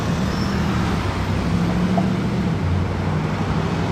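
An AC Cobra pulls onto the motorway amid a continuous wash of traffic noise, its engine a low rumble at moderate distance blended into the road roar.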